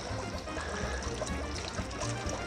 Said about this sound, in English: So you just put them under the water